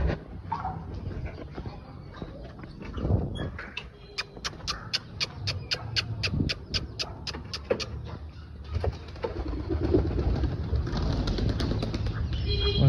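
Wings flap and clatter as pigeons are released from a coop and take off, with a run of sharp rhythmic clicks and some cooing amid outdoor rustling.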